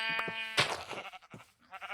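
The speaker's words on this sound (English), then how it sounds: "there's tons of sheep around" Sheep bleating in the video game Minecraft: several short, close bleats come one after another with brief gaps between them, loud and clear with no talking.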